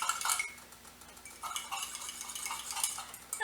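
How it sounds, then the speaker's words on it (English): A spoon scraping and clinking against a pot while flour is stirred into smoky corn chowder, with soft irregular taps and swishes close by. "I just stirred it up, just mixed it up."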